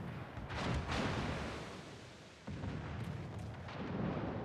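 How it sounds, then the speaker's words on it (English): The battleship Nagato fires a gun salvo in World of Warships, heavy booming blasts with a rumbling roll and a sharp second report midway, loud and close. "One more salvo from Battleship Nagato."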